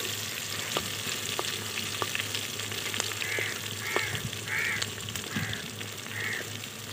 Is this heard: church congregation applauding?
no